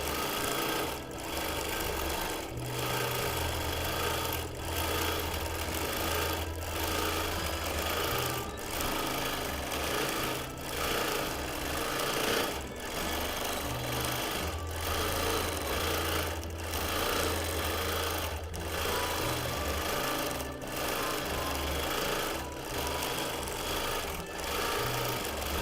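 A longarm quilting machine stitches feather patterns into a quilt with a lot of white fabric, a steady mechanical whirr with rhythmic pulsing that runs continuously and close up, with no talking.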